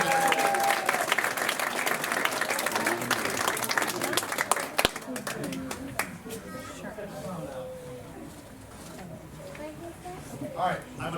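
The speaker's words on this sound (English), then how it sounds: "Another round of applause." Audience applause at a magic club show, dense clapping at first that thins into scattered claps, with voices talking over it in the later part.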